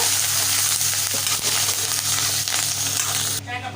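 Curry leaves and green chilies are stirred in a hot pan for coconut rice, giving a continuous loud frying hiss with scraping stirs throughout, then a sudden drop at the end.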